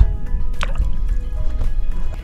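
A small perch slipping back into lake water with a splashy drip and trickle, liquid sounds close and fairly loud, brief and unbroken by talk.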